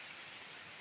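Waterfall at Bazeer Falls, a steady broadband rush of falling water that stays continuous and fairly faint throughout, with no voices over it.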